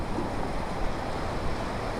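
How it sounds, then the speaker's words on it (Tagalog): Heavy rain and wind during Typhoon Uwan in Santa Cruz, Laguna, form a steady broadband hiss and wash, fairly faint and continuous with no talking. "wala na ring tigil ang ulan dito"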